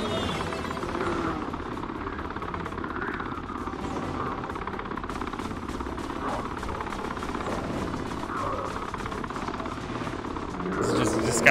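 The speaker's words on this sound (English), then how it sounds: "Now for a helicopter." A helicopter in the video game Ratchet & Clank: All 4 One, a continuous whirring rotor chop holding steady throughout at moderate loudness, with a voice talking over it.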